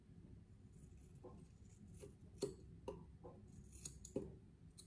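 Scissors snipping through hair at home, a few sharp separate cuts close by against a quiet background.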